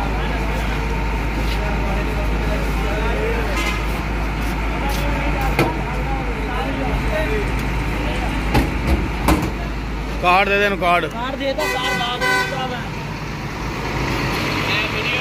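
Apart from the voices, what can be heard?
Usman Coach bus to Sialkot running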